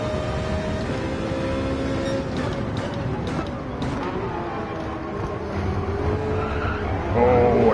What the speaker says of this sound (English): Spun my tires hard there.